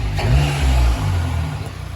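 A Volkswagen MK7 GTI fitted with an Integrated Engineering intake revs in a loud, close blip lasting about a second, then settles into a lower idle rumble.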